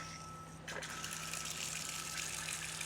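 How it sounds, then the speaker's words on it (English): Water gushes from a bathtub spout after a single-handle shower valve cartridge is replaced, starting abruptly with a steady, close rush of flowing water that continues to the end. "Water's coming out of the tub spout."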